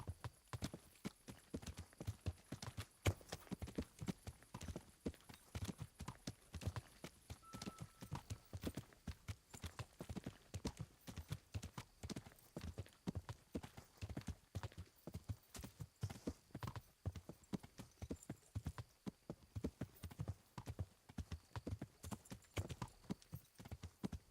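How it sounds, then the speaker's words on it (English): Horse hooves clip-clop steadily and rapidly in the video game Kingdom Come Deliverance, a continuous trotting rhythm, fairly faint and without talk. "We drove the horse right into a rock."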